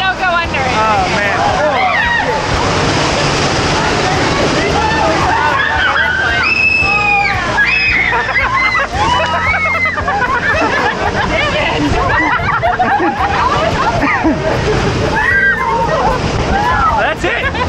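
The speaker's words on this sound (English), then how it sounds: "It's a big waterfall." Water from a big waterfall crashes and splashes continuously and loudly nearby, with excited voices and crowd chatter mixed through the rushing noise.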